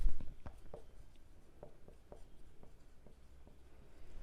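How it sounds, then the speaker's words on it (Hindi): Pen strokes scratch on paper while geometry working is written out, heard as a scattering of light, quick ticks and short scrapes over a quiet room hum, with no one speaking. "यहाँ पे हम लिखते हैं थिकनेस।"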